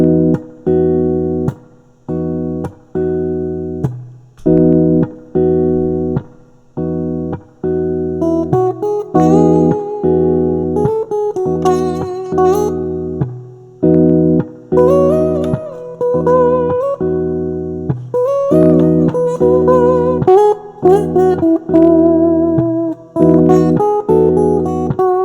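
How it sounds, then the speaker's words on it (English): A guitar plays the Ionian mode, the major scale, as clear plucked notes in a steady rhythm, each one ringing out with harmonics, later joined by fuller chord-like strums, loud and close with no talking. "the next mode from light to dark would be Ionian, so just our major scale"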